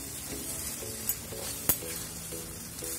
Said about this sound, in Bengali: এটা এইভাবে ক্রমান্বয়ে নাড়তে থাকবো।